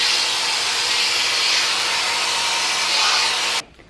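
Hair dryer fitted with a diffuser blowing on curly hair, a loud, steady airy roar held close and constant before cutting off abruptly at the end, with no talking.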